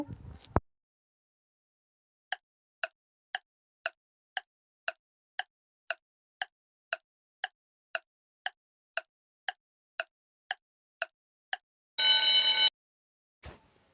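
A mobile phone rings in a steady, evenly spaced series of about fifteen short electronic beeps, followed by a brief burst of buzzing, otherwise quiet.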